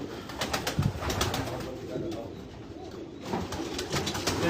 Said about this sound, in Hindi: ये साथ रमजान घाटी साहब का ब्रीडर सेटअप है और ये कबूतरों को आप देख सकते हैं।